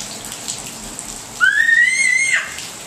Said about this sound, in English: It is pouring outside.